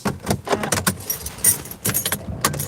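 Car keys jangle as they are put back into a parked car, a few close metallic clinking bursts with short pauses between them, loud and without speech.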